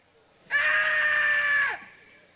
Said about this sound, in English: judges determine which of the contestants has the loudest scream